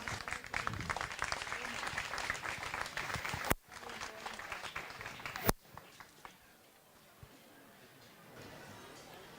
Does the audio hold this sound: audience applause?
yes